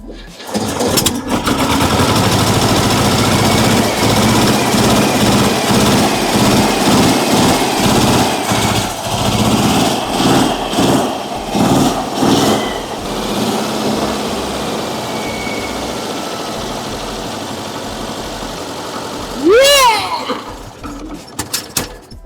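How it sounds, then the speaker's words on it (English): An old VW camper engine coughs and cranks unevenly at first, then settles into a steady, loud air-cooled idle that runs close up throughout, with a brief squeal of rising pitch near the end. "So at last the engine is running"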